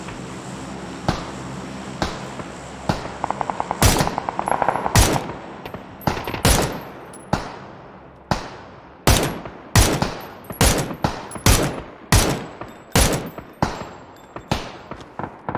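Bursts of rapid video game gunfire, single sharp shots and short automatic volleys, fire repeatedly and loudly with brief gaps, no voices.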